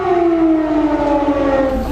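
Emergency civil defense sirens blaring, a loud sustained wailing tone slowly falling in pitch, with a second siren tone layered beneath it.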